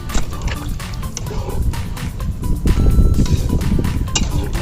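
Hot water is poured into a pot of desi chicken jhola curry, a close continuous liquid splashing and gurgling that swells toward the end.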